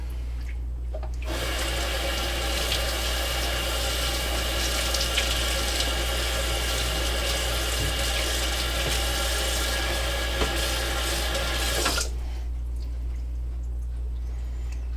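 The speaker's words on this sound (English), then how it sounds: "Rinse it off one more good time, real good." Tap water runs steadily over a freshly killed rabbit as it is rinsed in a sink. The splashing stream is loud and close, starting and stopping cleanly.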